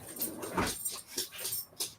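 A dog whimpers and whines close by in a series of high, strained cries that rise and fall over a steady background hiss.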